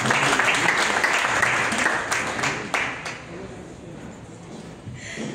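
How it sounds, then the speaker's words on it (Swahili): A church congregation claps together in a loud, dense burst that fades over several seconds to a quieter patter, heard from within the crowd. "Tupigie tena makofi."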